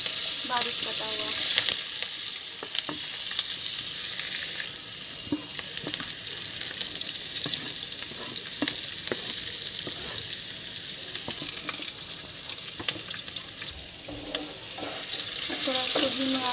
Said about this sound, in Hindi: धीमी आंच में इसको फ्राई करना है